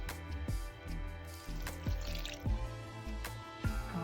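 Water poured from a cup into a mixing container while measuring baking ingredients, a run of splashing drips and small gurgles over a few seconds, close and moderately quiet.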